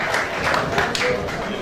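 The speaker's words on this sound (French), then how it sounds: "Est-ce qu'on peut l'applaudir?" Audience at an evening gala clapping steadily for an arriving guest, a brief continuous patter of applause with crowd noise.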